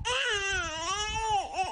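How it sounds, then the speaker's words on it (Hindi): A baby cries in a continuous, wavering high-pitched wail that rises and dips, loud and close, with a brief falter near the end. "अरे, लग रहा है कोई बच्चा रो रहा"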